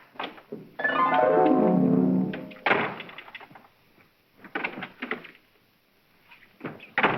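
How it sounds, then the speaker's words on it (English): A door in a 1941 comedy film creaks open with a long, drawn-out, falling squeal, then bangs shut, followed by several smaller knocks and rattles, fairly loud and close, with no talking. "Doors just don't open and shut themselves."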